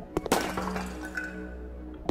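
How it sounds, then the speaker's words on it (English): Breaking glass from a Unity survival horror game: a sharp smash with brief clinks and scattering shards, followed by quiet and a second impact at the end. "It's a nice smashing sound."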